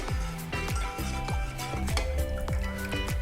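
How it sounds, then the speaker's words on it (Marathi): Thick lentil curry (katachi aamti) bubbling and popping at a rolling boil in a pot, with frequent irregular plops and soft sizzling, close and steady. "आमटीला छान उकळी यायला सुरुवात झाली आहे"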